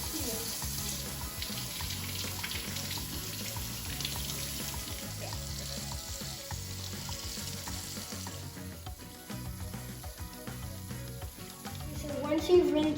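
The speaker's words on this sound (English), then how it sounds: "once you've taken your creations to the sink, you're going to want to run it over the water" Water from a tap streams into a sink while tie-dyed hoodies are rinsed under it, a continuous close splashing hiss with fabric sloshing, growing slightly louder toward the end.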